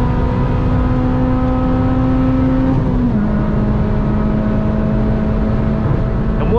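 A car engine, an Amarok V6 or Civic Si, drones steadily while accelerating hard on a straight road, heard from inside the vehicle as a loud, continuous hum whose pitch dips slightly midway through.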